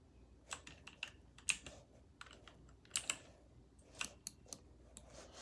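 Computer keyboard typing during play of the game Warfare, irregular bursts of crisp key clicks and taps, close and fairly quiet, with no talking.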